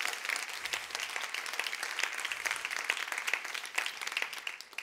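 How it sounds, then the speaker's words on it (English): An audience at a summit event gives a round of applause, dense, even clapping filling the room for several seconds before easing off at the end. "One more round of applause for Alexis and James"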